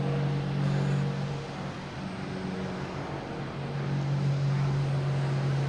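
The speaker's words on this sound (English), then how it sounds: "Here's United Airlines coming in from Chicago," A United Airlines Boeing 737-900 airliner arriving at Boston Logan from Chicago, heard as a steady, broad jet roar with a low engine hum, holding fairly constant and loud throughout with no talk.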